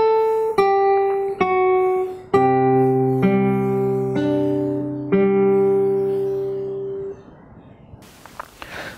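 Fingerstyle guitar picking the pattern from a piece, with single plucked notes building into ringing chords that slowly decay, close and clear, with a faint rustle at the end.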